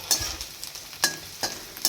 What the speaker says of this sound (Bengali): পেঁয়াজ কাঁচা লঙ্কা দিয়ে আলু ভেন্ডি ভাজা হচ্ছে